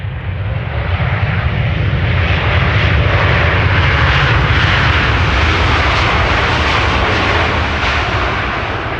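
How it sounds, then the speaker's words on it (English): Loud, sustained jet roar of a Saudi airliner, flight 215 from Jeddah, arriving at Amsterdam Schiphol, a broad steady rumble filling the whole stretch with no voices. "In the meantime, Saudi Flight 215 arrived from Jeddah."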